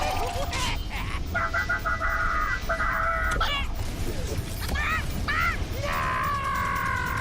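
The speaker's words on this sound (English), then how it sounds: "It's a chicken again." A cartoonish chicken in a Hearthstone-style card game clucks and crows in several short bursts over a constant backdrop of game music and effects.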